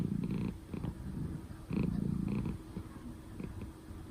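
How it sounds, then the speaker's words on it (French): A cat purrs close by in a quiet room during lockdown, soft rumbling in slow breathing cycles with brief pauses between them. "Et elle ronronne."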